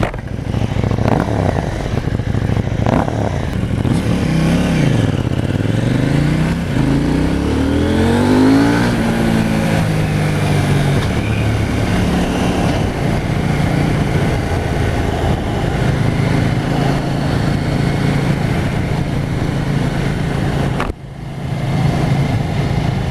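A KTM Duke 790 motorcycle engine accelerating hard on a road, loud and close throughout, its revs climbing and dropping through quick clutchless gear changes, with a steady drone between the shifts.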